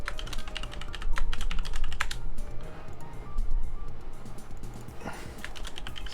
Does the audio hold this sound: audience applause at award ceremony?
no